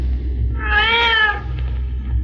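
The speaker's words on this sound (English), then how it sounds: "Poncho hear that cat now" A single drawn-out cat meow from a radio drama rises and falls near the middle, clear and close over a low steady background hum.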